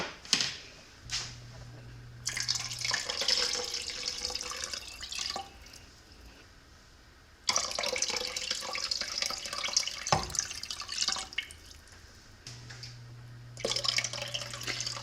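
Water pours steadily from a tap into a stock pot in two long runs, separated by a brief pause and clatter, hissing and splashing close by with no talking.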